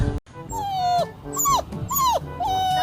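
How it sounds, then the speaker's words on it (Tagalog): A dog whimpers in a series of high, plaintive whines, several drawn-out cries close by with short gaps between them. "Hala! May aso!"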